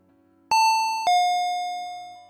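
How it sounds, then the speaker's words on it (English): Doorbell chiming a clear two-note ding-dong, bright, close and loud, the second tone ringing out and slowly fading in an otherwise quiet room. "the doorbell rang"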